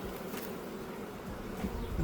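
Honey bees swarm around an opened spring hive during an inspection, a dense continuous buzz close to the microphone with no pauses and no voices.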